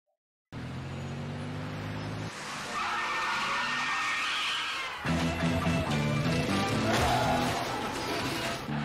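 Car tires skid and squeal loudly in a soft drink commercial, one long screech after another with engine roar beneath, continuous and close for several seconds after a brief silent start.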